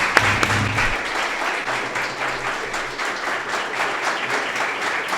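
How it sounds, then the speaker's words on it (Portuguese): Live audience at a podcast recording applauds steadily and loudly, a dense wash of clapping that holds evenly throughout, with a brief low hum near the start. "Pode aplaudir que eu tô adorando ter plateia."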